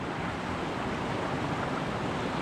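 A brook beside a wilderness trail rushes steadily, a dense, even wash of flowing water close by with no breaks and no voices.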